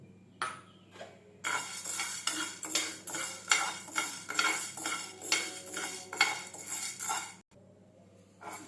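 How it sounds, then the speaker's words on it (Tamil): Chana dal dry-roasts in a pan for idli podi, a spoon scraping and rattling the dry lentils in a steady back-and-forth rhythm, close and without any sizzle, ending in a brief pause. "சேர்த்து இதையும் நல்லா வறுத்துக்கலாம் பொன்னிறமாக"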